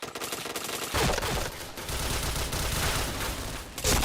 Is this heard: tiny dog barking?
no